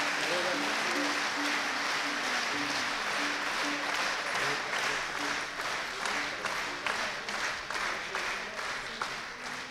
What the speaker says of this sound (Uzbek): Juda chiroyli qarsak chalib qo'yasizlar.